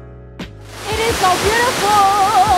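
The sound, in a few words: waterfall at Krantzkloof Nature Reserve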